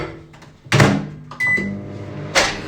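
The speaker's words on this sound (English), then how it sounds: "I'm going to put that in the microwave to melt." A microwave oven is used to melt butter, with door clunks and button beeps around a brief hum of the oven starting, sounds close and distinct in a quiet kitchen.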